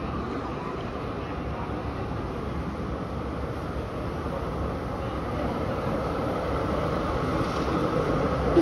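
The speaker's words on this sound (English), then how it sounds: "Trains are coming." A passing train gives a steady, continuous rumble and rattle throughout, fairly loud and constant with no talking, growing slightly toward the end.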